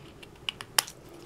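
Scissors snipping paper while cutting a freehand two-layer border: a few soft, crisp clicks, one brief cut after another, faint and close with no talk.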